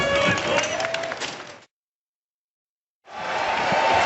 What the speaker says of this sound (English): So an appreciative crowd here in Manila greeting the fighters before this 5th and final round